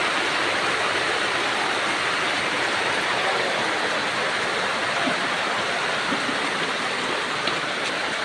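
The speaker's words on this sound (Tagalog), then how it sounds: "Maulan." Heavy rain pours down in a steady, dense roar with no letup, a constant wash of noise close around, with no voices heard.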